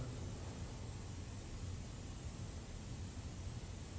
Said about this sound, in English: You can hear the very slight hiss in the background of the air conditioner.